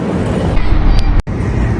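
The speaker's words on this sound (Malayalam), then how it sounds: "നമ്മുടെ ഇവിടുത്തെ പഴയ ട്രാം സംവിധാനമാണ് കേട്ടോ ഈ കാണുന്നത്" A heavy, steady rumble of an old tram rolling past close by in Odessa, Ukraine, with rattling and road noise and a brief break near the end.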